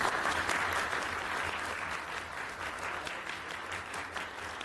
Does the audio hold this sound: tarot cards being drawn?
no